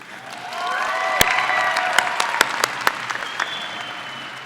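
A crowd at a high school graduation ceremony claps steadily while a few people cheer and whoop over it, the applause holding at an even, moderate level throughout.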